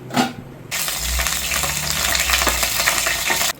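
Mustard seeds dropped into hot oil in a pan, a sudden loud burst of sizzling and crackling that continues steadily up close for a few seconds, then cuts off.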